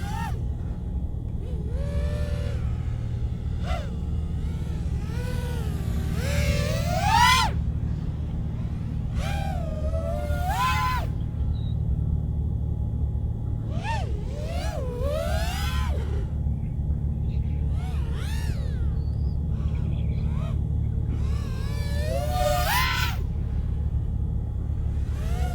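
Small Eachine Twig quadcopter drone running BetaFPV 1204 motors, a steady high whine with pitch swooping up and down as it throttles and maneuvers, continuous over a low rumble throughout.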